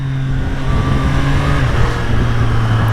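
Three-cylinder engine of a 2024 Triumph Street Triple R motorcycle revving steadily nearby, a loud, continuous throaty drone with a slight rise in pitch.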